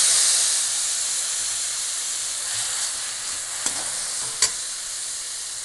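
Lightly roasted onions and tomatoes hiss and sizzle steadily in a frying pan as a spoon stirs them, with a couple of sharp scrapes near the end.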